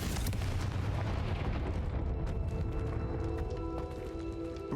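A fiery spell blast erupts in a fantasy game, a loud booming explosion at the onset followed by a long rumbling roar and crackle that slowly settles.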